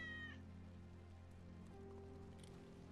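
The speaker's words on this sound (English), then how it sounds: "Hear that? Kitty! That's Wedge's cat." A cat meows in the video game Final Fantasy VII Remake, a brief high cry near the start over a steady ambient drone that sounds like falling rain.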